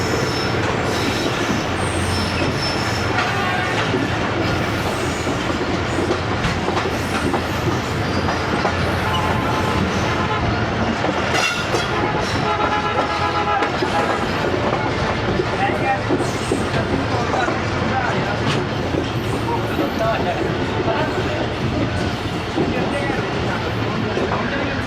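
The Ghouri Express train runs between Faisalabad and Lahore, giving a continuous loud rumble of rolling wheels with clacking over rail joints and squealing wheels, heard from on board.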